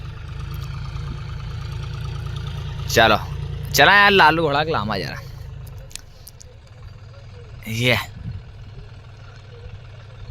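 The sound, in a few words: tractor engine running in a field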